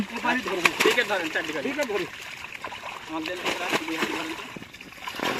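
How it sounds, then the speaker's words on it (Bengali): Fish splash and thrash in pond water as they are caught in Bangladesh, with irregular splatters and sloshing close by under someone talking. "আজকে এই মাছগুলি ধরা হচ্ছে"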